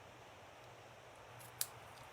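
Scissors snip ribbon tails once, a single sharp, close click standing out against quiet room tone.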